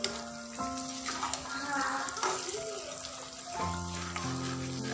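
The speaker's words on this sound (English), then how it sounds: "you can put the vegetables into the oil and mix them like I am doing" Carrots, cauliflower and turnips for a sweet-and-sour pickle fry in hot oil with masalas as they are stirred, giving a steady, close sizzle with scraping stirs and faint tonal hum underneath.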